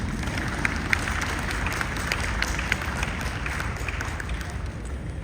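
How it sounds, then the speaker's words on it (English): An audience applauds at a climate action talk, a dense steady wash of many hands clapping throughout, moderately loud with no talking. "Please, a hand of applause for them."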